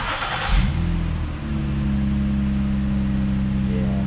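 A Ford Flex with a newly replaced mid pipe muffler cranks briefly and starts, then holds a steady, fairly smooth idle heard up close with no talking.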